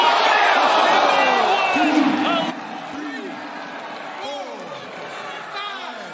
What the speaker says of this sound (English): a round of applause for the Argentine